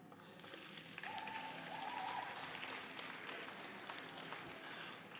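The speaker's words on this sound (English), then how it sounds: "Thanks for clapping the most depressing section of the talk." Audience clapping at a live talk in a London concert venue, a steady wash of applause that swells then holds, distant and quiet.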